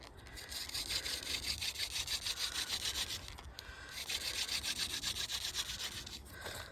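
Wooden hand drill spindle spun against a wooden board to make fire in a winter camp gives a fast, rhythmic back-and-forth rasping, close and fairly faint, with a brief pause midway before the strokes resume.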